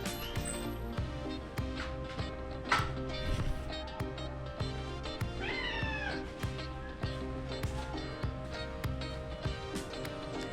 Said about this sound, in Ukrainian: А ще котики абсолютно домашні, спокійні, ходили як справжні господарі території.